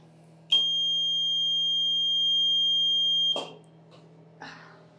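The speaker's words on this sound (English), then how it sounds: "that alarm goes off when the alarm triggers, and that is triggered by the float switch" A septic pump tank float switch alarm sounds a shrill electronic tone continuously for about three seconds, then cuts off, followed by faint clicks and shuffling in a quiet room.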